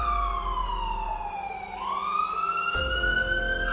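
A police car siren in a Bengali cartoon, a wailing tone that sweeps down and then rises again, steady and moderately loud over a low engine-like hum.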